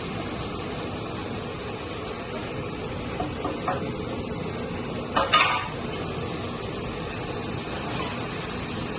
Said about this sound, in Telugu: కూర కొంచెం కలబెట్టేయాలి, ఇట్లా మొత్తం కలబెట్టేసుకోవాలండి